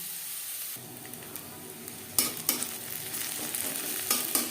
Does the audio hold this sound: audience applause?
no